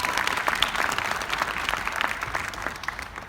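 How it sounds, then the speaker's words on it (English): A graduation audience breaks into sustained applause, a dense wash of many hands clapping steadily at fairly close range with no voices over it. "So give yourself another round of applause for standing in the gap."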